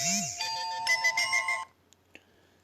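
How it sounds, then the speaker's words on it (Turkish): A WhatsApp ringtone plays as a short preview on a phone, a bright electronic melody of repeated chiming tones for about a second and a half, then stops, leaving a couple of faint clicks. "bildirim ton olarak bir zil sesi seçin"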